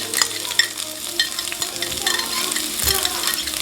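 Scotch bonnet pepper and garlic sizzle and crackle in a small saucepan over low heat, with a steady frying hiss, scattered pops and a few clinks of a utensil stirring.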